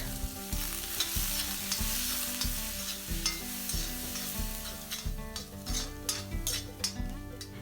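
Chopped onion sautés in a pan with cardamom pods, a bay leaf and cinnamon stick, giving a steady sizzle broken by rhythmic scraping and clinking stirs against the pan.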